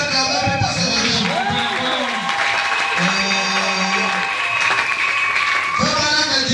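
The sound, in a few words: audience applauding and cheering for the region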